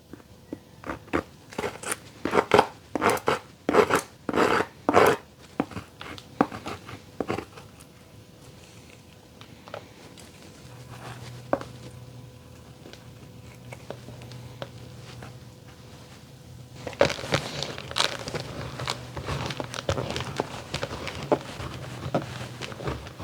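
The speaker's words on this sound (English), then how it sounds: "Now that I've scraped off the majority of the impurities on the back" Scraping impurities off the back of a block of beeswax, with a run of sharp, evenly spaced scrapes at first, then quieter scattered scratches, then a denser stretch of rough, continuous scraping close by.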